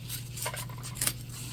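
Scissors snipping through zipper tape while sewing a bucket bag, a short close cut of quick rasping snips over a constant low hum, with no talking.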